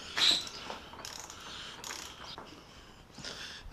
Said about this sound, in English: Now we're just screwing her down.